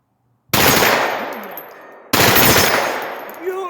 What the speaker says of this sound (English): So let's see if I can get some hits bump firing this.